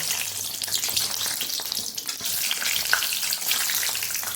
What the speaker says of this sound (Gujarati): એની અંદર આપણે આ મરચાને તળી લેવાના છે